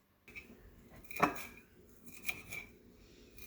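A knife chops parsley and garlic together on a cutting board in a home kitchen while couscous and tilapia are being prepared, giving a few scattered close taps and scrapes with one firmer knock near the middle.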